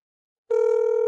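After a brief silence, a telephone ring sound effect starts abruptly as a loud, steady electronic tone that sustains to the end, alone without any voices.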